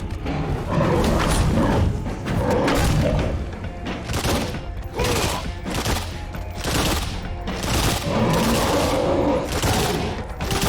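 Gunfire in a video game comes as dense, loud bursts of rapid shots and thuds, repeating in waves throughout with barely any pause.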